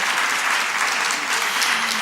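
Conference audience applause fills the space, a dense, even roar of many hands clapping at close range, steady and unbroken for the whole stretch.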